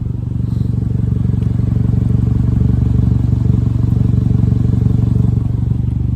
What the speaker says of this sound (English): Basically I got the resonator off, so this is kind of what it sounds like at idle.